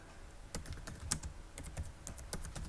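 Fingers tapping out a short title on a computer keyboard, light clicky keystrokes in an uneven run, quiet and close with no voice.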